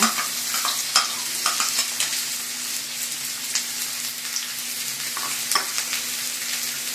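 Finely chopped onions sizzle in hot oil in a pan for an egg roast, a steady, close, crackling fry with soft stirring scrapes throughout and no voices.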